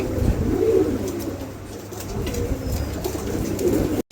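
Pigeons coo in a pigeon showroom, low throaty calls overlapping in a close, steady chorus from several birds, with no talk and a brief drop-out at the very end.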